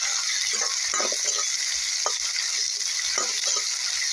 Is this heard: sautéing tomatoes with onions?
yes